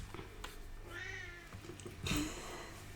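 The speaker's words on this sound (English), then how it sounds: "I'm laughing because Coco keeps on meowing." A cat meows twice, close and fairly clear, the second call louder and sharper than the first.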